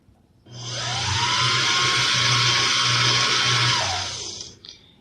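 A sewing machine winds a bobbin with the pedal held down, giving a loud, steady motor whine for about four seconds that ramps up and then fades away, with no voices.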